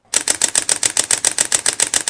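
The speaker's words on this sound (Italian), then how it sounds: "ve la faccio vedere un attimo con l'otturatore aperto, mantenendo il live view e l'otturatore meccanico a 7 frame per secondo" A Panasonic Lumix G9 fires a mechanical-shutter burst at 7 frames per second with live view kept on, about fourteen crisp, loud, evenly spaced clicks in two seconds, close and with no talk.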